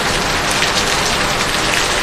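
Steady heavy rain pouring down on surfaces during a wet spell at home, a dense continuous hiss with no voices.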